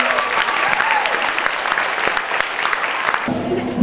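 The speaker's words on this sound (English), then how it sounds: "let's give our third graders a huge round of applause" A school audience claps loudly for third graders at an MLK event, dense steady applause filling the whole short stretch, fading slightly at the close.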